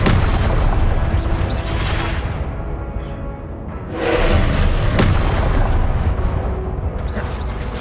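Confringo fire-blast spell in the Hogwarts Legacy video game during a duel against a pumpkin-headed enemy: loud, booming explosive bursts with crackling debris, a brief lull around the middle, then another heavy blast rolling on.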